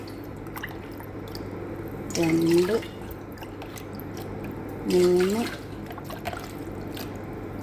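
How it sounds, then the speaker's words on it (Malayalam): Two separate pours of measured water into a copper pot, each a short gurgling splash of about half a second to a second, with a person counting aloud between them. "അതിലോട്ട് വെള്ളം നമുക്കൊന്ന് അളന്നൊഴിച്ചു കൊടുക്കാം."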